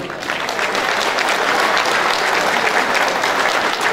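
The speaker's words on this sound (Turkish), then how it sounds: "bir alkış alabilir miyim?" Steady, loud applause from an audience at a village goose night celebration, dense continuous clapping filling the whole stretch without a break.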